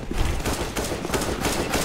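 Dense, rapid gunfire in a CS:GO deathmatch, a steady run of sharp overlapping shots filling the whole brief moment, loud and close.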